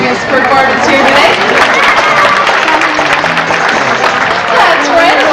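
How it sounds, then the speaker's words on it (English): Audience applause at a sea lion show at Knott's Berry Farm, a steady dense wash of clapping with crowd murmur running loud and continuous throughout, with a voice talking faintly underneath. "That's right, a lot of applause"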